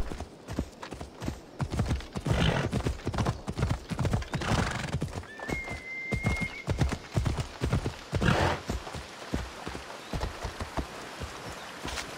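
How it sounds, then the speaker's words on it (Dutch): A horse gallops up mountain terrain in Assassin's Creed Odyssey with rapid, rhythmic hoofbeats that keep going throughout. A brief whinny cuts through midway, and the hooves sound close and loud. "Het is wel lastig om bergen te bereiden met een paard"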